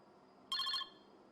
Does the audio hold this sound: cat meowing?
no